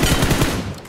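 A loud, dense burst of rapid gunfire in a Fortnite-style shooter game, a quick string of shots packed into about a second, with no voices.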